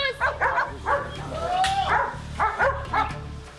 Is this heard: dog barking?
yes